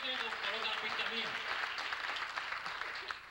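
A church audience applauds for a singer at a worship event, continuous clapping heard under someone speaking over it.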